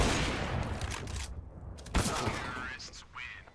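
Gunfire in a professional Counter-Strike: Global Offensive match on the Overpass map at ESL Pro League Season 17, rapid shots and game action under continuous excited commentary.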